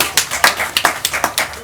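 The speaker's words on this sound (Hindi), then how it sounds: "एहि पर जोरदार ताली दियो।" Scattered hand clapping from a literature festival audience, distinct individual claps in an uneven rhythm, close and fairly loud, more like a few people than a full crowd.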